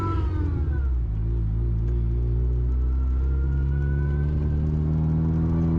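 A supercharged Mazda Miata NB drives Surrey back roads, its engine a steady close drone with strong harmonics that climb gradually as it pulls, a continuous rumble heard from inside the car.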